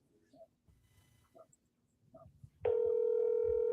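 A telephone being dialed to call someone: three short, evenly spaced beeps, then a loud steady tone that holds to the end, with faint background sounds underneath.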